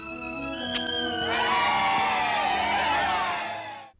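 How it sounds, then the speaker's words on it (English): A cartoon crowd of townsfolk cheers and whoops for Casper the Friendly Ghost, a loud, sustained swell of many voices that builds after the first second, holds steady, then cuts off abruptly. "They all cheer for Casper the hero, and it is glorious"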